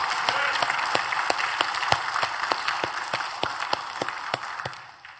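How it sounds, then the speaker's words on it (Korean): A church congregation breaks into applause during a sermon, a steady wash of many hands clapping with sharp individual claps standing out, fading slightly toward the end. "하나님께 영광의 박수 드리지 않겠어요?"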